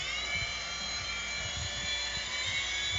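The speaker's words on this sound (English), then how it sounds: "I'm gonna drive my helicopter" A small RC helicopter flying indoors in a studio gives off a steady, high-pitched electric whine with layered tonal hum, continuous and close, with faint low thumps underneath and no talk.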